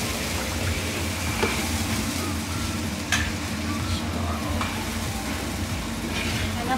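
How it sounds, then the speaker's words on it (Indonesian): A big batch of rendang is stirred in a large pan, the spoon scraping and sizzling steadily through the thick mixture, with a few sharper clacks against the pan, close and continuous. "Kita aduk, bentar."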